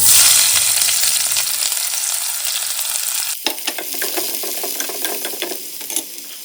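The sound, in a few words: chopped onions frying in oil with whole spices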